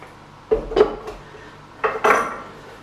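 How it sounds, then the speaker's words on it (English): A sausage stuffer set down and shifted across a kitchen island, making four clunks and clatters in two close pairs, near and fairly loud against a quiet room. "I'll just put the sausage stuffer out of the way for a minute."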